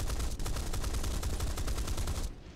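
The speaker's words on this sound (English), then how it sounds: "Light AA gun, I can take that out. Oh, it's shooting at me." A light anti-aircraft gun in War Thunder fires at the player in a rapid, steady burst of rattling shots, sustained for a couple of seconds before cutting off, moderately distant.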